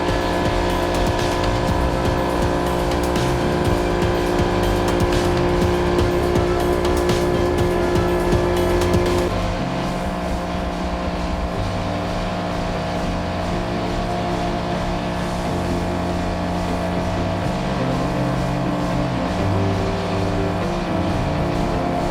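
A Hydroblast vapor honing parts washer cleaning greasy motorcycle foot pegs runs with a loud, steady mechanical roar and hiss that drops slightly in intensity partway through, with no talk.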